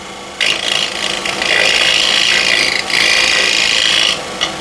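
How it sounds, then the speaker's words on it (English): Curved scraper shear scraping a wood bowl on a spinning lathe just beneath the thin rim, a steady close rasping hiss in two long sustained passes with a brief break between. "this is where it comes in handy for shear scrape here"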